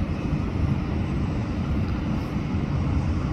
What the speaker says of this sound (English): A Delta A350 arriving from Atlanta.